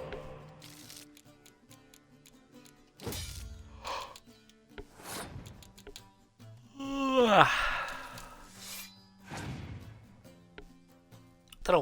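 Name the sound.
person yawning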